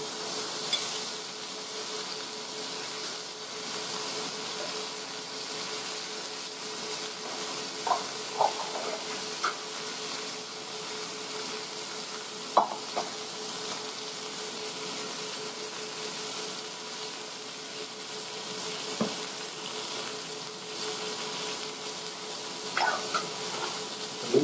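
Turkey pieces fry in a very hot pan, giving a steady, fairly quiet sizzling hiss with occasional soft crackles and spatters throughout.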